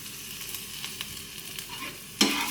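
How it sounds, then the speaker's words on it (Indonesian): Onions hit a hot pan in an Indonesian home kitchen, starting as a soft crackling with light taps, then a sudden louder burst of sizzling near the end. "Oke, apinya sudah mulai panas pancinya. Masukin semua bawangnya."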